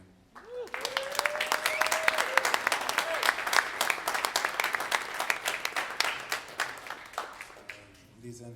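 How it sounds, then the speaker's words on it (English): Audience clapping for a cymbal maker at a drum show, a dense patter of hands that rises quickly, holds steady for several seconds and tapers, with a brief voice and tone near the start. "please give a round of applause for Burke and W Cymbals"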